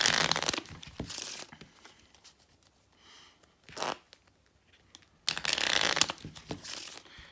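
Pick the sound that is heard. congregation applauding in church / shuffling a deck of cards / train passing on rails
shuffling a deck of cards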